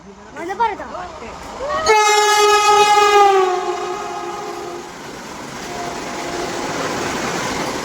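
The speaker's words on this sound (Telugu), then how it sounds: "ట్రైన్ అయితే వస్తుంది వందే భారత్ ట్రైన్ చూడటం" A Vande Bharat train runs through a railway station, opening with a loud, sustained horn blast, then the rushing roar of the carriages close by, with a voice heard briefly at the start.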